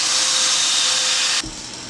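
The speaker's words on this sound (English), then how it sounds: "just come back and drill holes between each pair." A loud, steady power drill whines continuously, then cuts off abruptly near the end, leaving a quieter background hum.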